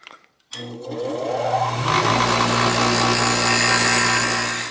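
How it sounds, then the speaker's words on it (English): Bench grinder grinding a bicycle crank arm flat to repair stripped pedal threads; after a brief pause the motor hum starts up loud and steady with a continuous harsh grinding rasp throughout, no talk. "I'm going to very carefully grind this down on my bench grinder here."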